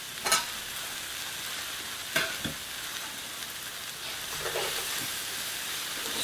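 Broccoli tossed into a hot pan for a sausage breakfast casserole, sizzling steadily up close with a few sharp clatters and scrapes as it is stirred around.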